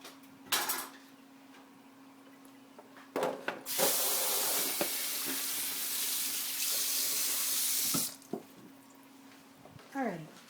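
Running water from a kitchen sink tap as food is rinsed under it, a steady close hiss lasting several seconds, bracketed by brief clatter and a person talking before and after.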